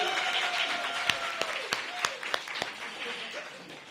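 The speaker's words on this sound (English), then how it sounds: "So give yourself a round of applause." A room of seniors applauds at a mayoral bill signing for a city aging department, with scattered sharp individual claps over a steady crowd wash while voices murmur alongside.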